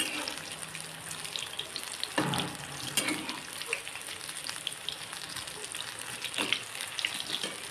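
Ridge gourd bhaji frying in hot oil in a home kitchen, a steady close sizzle with occasional stirring knocks and clatters.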